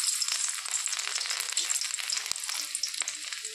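Garlic hitting hot white oil with a dried red chilli, a bright crackling sizzle that runs steadily up close with a few sharp pops and stirring taps.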